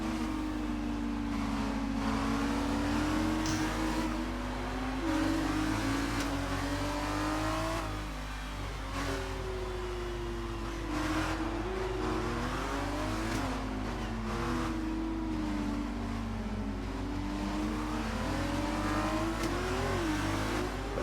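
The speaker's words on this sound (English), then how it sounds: "the cars are just coming up to the Degner corners now" Formula 2 race cars at Suzuka's Degner corners scream past with high, revving engines that rise and fall through gear changes, several cars overlapping in a continuous loud roar with no voices.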